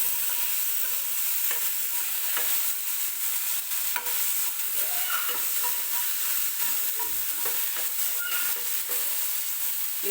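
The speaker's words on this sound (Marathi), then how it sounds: "आलं लसणाची पेस्ट आहे ती सुद्धा व्यवस्थित तेलामध्ये परतून घ्यायची आहे।" Ginger-garlic paste, onion and tomato masala sautéing in oil give a steady, close sizzle with scattered spatula scrapes and stirring clicks, continuous throughout without any voices.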